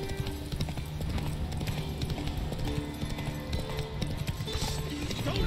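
Roach, Geralt's horse in The Witcher 3, trots with brisk, continuous clip-clop hoofbeats over a busy game soundscape, a brief neigh rising amid the steady rhythm.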